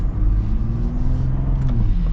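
A 2025 Ford Bronco Raptor or Jeep Wrangler Rubicon off-road truck rounds a corner at low speed, a steady close engine drone with low rumble and slight rising tone, no talking.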